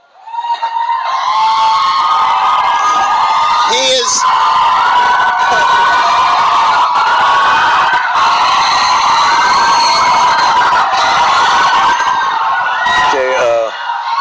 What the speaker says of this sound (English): I think we're never going to get through this if you don't stop screaming.